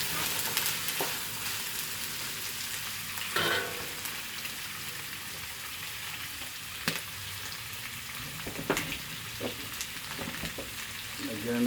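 Pansit noodles sizzle steadily in a hot pan as they are stir-fried and tossed, a constant close frying hiss broken by occasional scraping clatters of the utensil.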